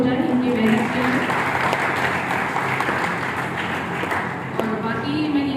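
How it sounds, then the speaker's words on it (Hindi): An audience at a school event applauds steadily, the dense clapping filling the room at a fairly loud level, with some voices and chatter mixed through it. "तो एक ताली इनके लिए हो जाए, इनकी मेहनत के लिए।"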